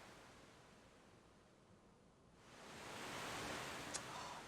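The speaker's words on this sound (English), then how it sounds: "I love the sound of the waves." Ocean waves wash in Final Fantasy V, a soft broadband surf hiss that swells noticeably louder halfway through and holds steady, with no voices.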